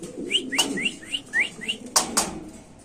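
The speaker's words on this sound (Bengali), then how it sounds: "তো দর্শক সজীবের হাতে আছে এক জোড়া কবুতর" A series of short chirpy calls from a pair of Sirazi pigeons repeated in quick rhythm, with a couple of sharp flaps or knocks, close by, over a low background rumble.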